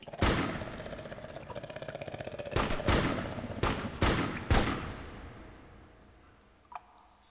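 Gunfire in the video game Castle Miner Z aimed at a dragon: a series of sharp blasts, the first and several later ones in quick succession, each leaving a ringing tail over a droning hum that fades out.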